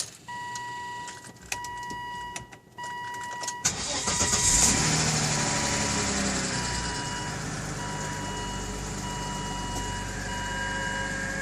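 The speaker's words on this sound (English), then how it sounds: "when you start your car in the morning, you're gonna hear kind of like a jet noise" A Volvo starts up and settles into a steady, loud whooshing jet-like roar from a failing PCV oil trap, preceded by a few seconds of clicks and a warning chime before the engine catches.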